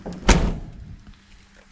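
A heavy old Chevy squarebody truck door slams shut once, a loud solid thunk up close that fades into a low background rumble.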